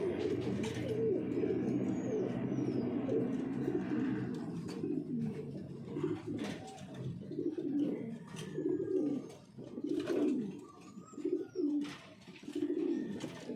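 Pigeons coo in a loft with repeated low, soft throaty calls in uneven bursts, joined by a few faint higher chirps and rustling, close by and without speech.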